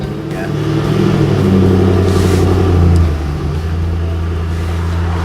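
A classic car's engine idles and revs up with a low, steady rumble, swelling to a louder burst around the middle before settling back to a constant running drone.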